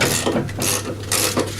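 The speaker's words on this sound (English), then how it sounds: "I'm using a 1/2 inch ratchet here, and it's a conventional bolt which undoes anti-clockwise" A 1/2 inch ratchet undoing a conventional lawn mower blade bolt on a petrol self-propelled mower, with close, loud repeated clicking ratchet strokes in short bursts.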